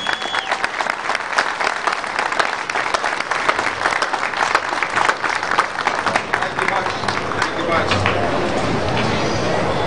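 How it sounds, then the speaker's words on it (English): Sustained applause from an assembled audience at an outdoor-show ceremony honoring the National Freshwater Fishing Hall of Fame, dense steady clapping filling the whole stretch without a break. "I'd please welcome in a round of applause for Emmett Brown"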